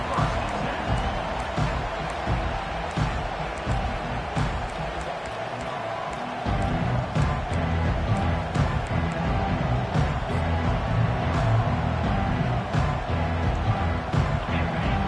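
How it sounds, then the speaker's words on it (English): A dense, roaring college football stadium crowd cheers continuously, loud and steady, with rising swells of noise throughout. "This crowd bringing the energy and noise early."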